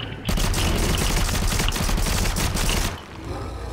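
Rapid video game gunfire at swarms of monsters in a Minecraft-style Nether level, a dense loud burst of shots that stops abruptly near the end.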